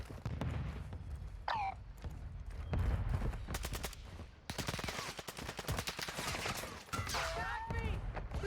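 Gunfire in the Warzone 2 video game during a pistol-only match against a sniper: bursts of rapid shots crack repeatedly over several seconds, with brief voice sounds mixed in.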